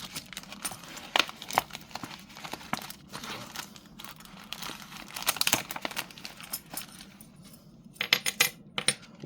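Metal coin pendants, including a King George V piece, are handled up close, giving off irregular light clinks, taps and rustles throughout with brief clusters of sharper metallic hits and no talking.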